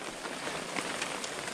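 Heavy rain pours steadily outdoors during a wild dove hunting trip, a dense, even hiss of large drops striking surfaces with scattered close patters throughout and no voices.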